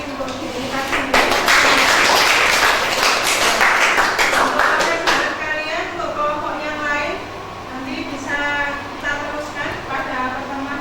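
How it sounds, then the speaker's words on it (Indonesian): A classroom of students applauds themselves during a pharmacy lesson on powder dosage forms: dense, steady clapping for about five seconds, then voices and chatter take over as the applause fades. "Mari kita berikan aplaus lagi untuk diri kita sendiri."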